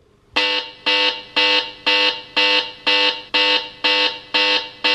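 A loud electronic SOS alarm from an Ulefone Armor X6 phone at full volume beeps in a steady repeating pattern, ten harsh tonal pulses evenly spaced, close and piercing.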